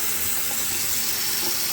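Water pours steadily into a Costway mini washing machine tub, a continuous close splashing rush that fills the whole moment without pause and with no talking over it.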